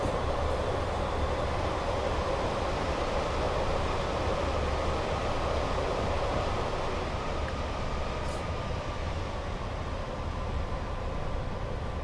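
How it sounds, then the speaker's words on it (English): A Network Rail HST train rumbles past in the Train Sim World 5 video game, a steady broadband roar of wheels and engine lasting the whole stretch with no voices. "there's the old Network Rail"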